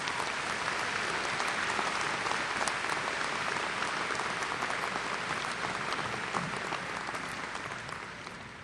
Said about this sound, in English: If you would give a round of applause to the retiring faculty